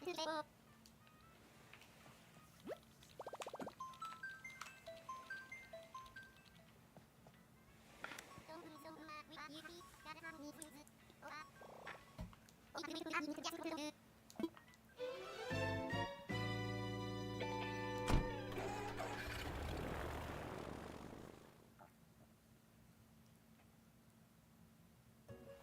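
A seaplane in Animal Crossing revs up and takes off, a rising engine drone swelling loud for several seconds under bright game music and chirpy character babble, then fading away.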